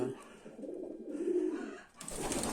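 Low, soft pigeon cooing in a steady murmur, with a brief break before a brighter, noisier burst near the end.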